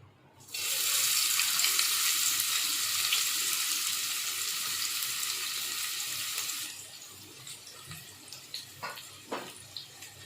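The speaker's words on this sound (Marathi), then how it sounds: "तो कांदा आपल्याला तेलामध्ये चांगला परतून घ्यायचा आहे मऊ होईपर्यंत" Finely chopped onion drops into hot oil in a pan, setting off a sudden loud hissing sizzle that holds steady for several seconds, then cuts away to scattered clicks and light pan knocks.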